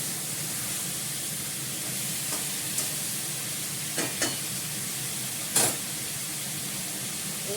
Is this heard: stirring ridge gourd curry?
yes